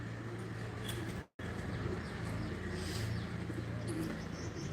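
Pigeons coo on a rooftop among a flock released for a pigeon-flying tournament, soft repeated calls set against steady broadband outdoor noise, with a brief dropout partway through.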